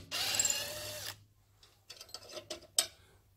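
A Makita power drill runs in one steady whir for about a second, backing out screws on the end casing of a Sealey air compressor, followed by a few faint clicks and clunks of handling.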